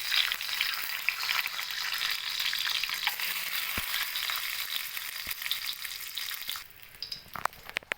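Eggs fry in a little hot oil in a wok with a steady, bright sizzle that runs on unbroken, followed near the end by a few sharp clatters from the pan.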